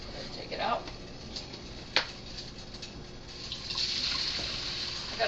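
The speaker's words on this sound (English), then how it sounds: "I'm going to go ahead and rinse it off with some cold water" Cold tap water runs steadily into a kitchen sink, a soft continuous hiss that swells louder toward the end, with a few clinks and knocks along the way.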